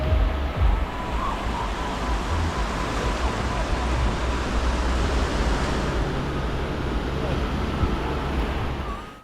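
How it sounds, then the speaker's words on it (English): Sea waves wash onto a rocky beach near Chania, Crete, a continuous rushing roar with low rumble and some wind noise, steady and close throughout. "I'm going to be quiet for a couple of seconds so you can enjoy the sound of the sea"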